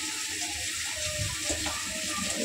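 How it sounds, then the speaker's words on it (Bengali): Dishes being washed under a running tap in a home kitchen sink, a steady close rush of water with faint clinks of utensils throughout. "তখন বাসন টাসনগুলো ধুয়ে নিচ্ছে"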